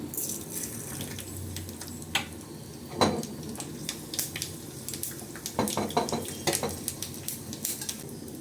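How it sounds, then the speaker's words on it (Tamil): Mustard seeds and urad dal tempering in hot oil in a pan for a capsicum chutney make a steady crackling sizzle, close and moderate. Scattered pops, spoon scrapes and stirring clinks run through it, and no one speaks. "இப்போ தாளிச்சிக்கலாம் சட்னியை. கடுகு, உளுத்தம்பருப்பு போட்டுக்கலாம்."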